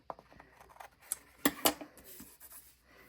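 Scissors trimming a small piece off a paper letter sticker for a reading journal, a couple of quick sharp snips amid faint paper handling, close and soft.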